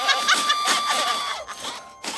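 A character screams in the horror video game Evil Nun 2, a loud, strained shriek lasting about a second and a half, followed by a short break and a second burst, with no speech over it.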